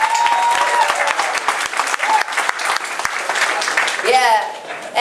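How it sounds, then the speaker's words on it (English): Dense, loud applause fills a Bronx town hall held by the New York City Comptroller, steady clapping with a few voices rising over it near the end. "So give him a round of applause."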